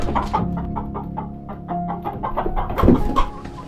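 A hen in a coop clucks in short repeated bursts, close and moderately loud, with a sharper squawk-like burst near the end.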